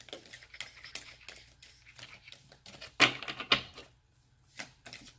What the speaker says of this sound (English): these cards are big. They're hard to shuffle.